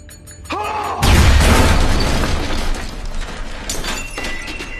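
A bomb explosion from Breaking Bad bursts with a heavy boom and shattering debris, then crackles and rumbles as it decays. It is loud and sudden after a brief lead-in of tonal sound.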